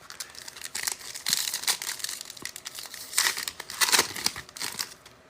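An X-Acto knife slices open sports card box packaging up close, with crinkling, crackling cuts and tearing of wrap and cardboard in irregular bursts and no voices over it.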